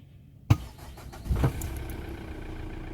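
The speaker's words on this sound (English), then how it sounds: "And the engine started, but it's freaking noisy" A car engine, started by bypassing a faulty starter, cranks with a sharp click, catches and then settles into a steady, rumbling idle, close and fairly loud.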